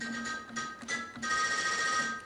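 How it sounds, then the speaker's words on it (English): A theatre organ's real xylophone plays bright wooden tones struck in quick, reiterating repetitions, with a few distinct attacks and a steady ringing pitch, heard fairly quietly. "So we have a real xylophone that sounds like this."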